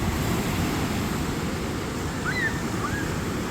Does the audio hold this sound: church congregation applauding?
no